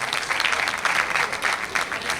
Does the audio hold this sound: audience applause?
yes